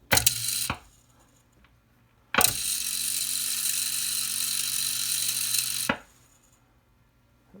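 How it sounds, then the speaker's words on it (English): Motorized tuning drive of a 1937 RCA 811K radio running in two bursts, a short one then a longer steady mechanical whir lasting several seconds, each starting and stopping sharply with quiet hum between. "you can see the action of the motor, how this thing is being driven"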